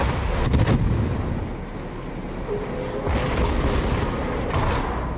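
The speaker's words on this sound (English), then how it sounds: "And then he just throws his second batch out, fires the salvo." Battleship main guns firing a salvo in World of Warships, heard as a loud booming volley near the start and a second rumbling burst later over a steady background roar.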